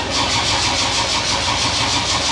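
Freshly rebuilt LS1/LS4 V8 engine cranking and catching, a loud, dense, continuous roar close to the microphone with no talking.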